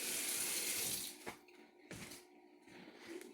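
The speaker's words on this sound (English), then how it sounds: "Always remember to wash your hands." Hands are washed under a running kitchen tap: a steady rush of water for about a second, then it stops, followed by a few wet clinks and splashes at the sink.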